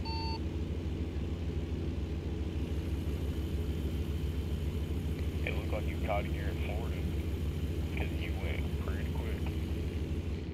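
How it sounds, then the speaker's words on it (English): Truck engine in the video game American Truck Simulator, hauling a reefer trailer in a convoy: a steady, low droning rumble running evenly throughout, with faint chirps and tones layered on top. "This truck kind of loud."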